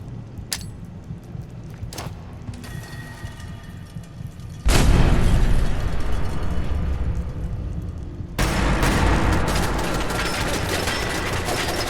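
A grenade blast in Fallout 4 hits as a sudden loud boom, then a roaring rumble that decays slowly, followed by a second burst of harsh, crackling noise near the end amid ongoing game ambience and distant gunfire.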